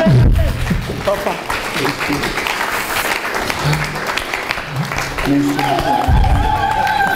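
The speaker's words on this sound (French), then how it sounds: "Nous applaudissons fort et fort." An audience claps at a church ceremony honouring women servants of God, a dense, sustained round of applause mixed with a loud voice speaking over it and some tonal background sounds.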